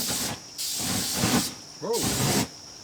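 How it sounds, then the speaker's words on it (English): Cooking oil is sprayed onto a hot barbecue grill in loud, close hissing bursts of about a second each, separated by short pauses, with a brief voice between sprays. "I'm going to spray the grill."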